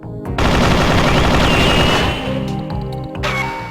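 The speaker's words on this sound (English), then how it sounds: "I'm going to just demonstrate the primary fire and the secondary fire" Loud, rapid automatic gunfire from a weapon on the Perfect Dark firing range in the video game, bursts rattling continuously with short pauses and a final burst at the end.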